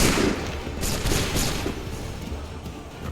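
A massed musket volley in Assassin's Creed 3 crackles as one loud, dense burst, then fades into a lingering rumble and scattered shots over about three seconds.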